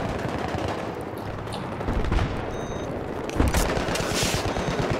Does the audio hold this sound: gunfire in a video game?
yes